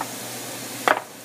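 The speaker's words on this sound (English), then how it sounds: "now we're going to add the chicken stock." Chicken stock poured into a hot pan of rice set on high heat, giving a short loud burst of sizzling near the end after a steady low background.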